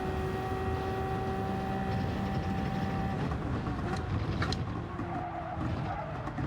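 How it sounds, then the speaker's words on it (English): Toyota race car in Gran Turismo 7, a steady droning engine with a tonal whine that drops away, followed by rough tire scrubbing and skidding noise. "That Toyota turned out to be pretty damn fast"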